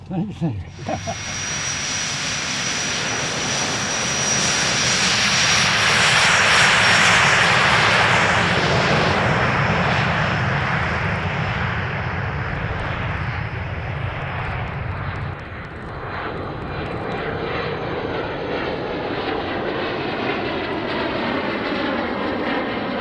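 Engine roar from a Cirrus SF-50 Vision Jet heard from inside the cockpit, a loud, broad, steady rushing whine that swells and then settles, with voices talking over it.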